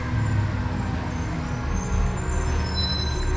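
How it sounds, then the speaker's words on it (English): A garbage truck idles close by with a steady low engine rumble and a hiss of air brakes, heard alone without talk for a few seconds. "bloody garbage truck."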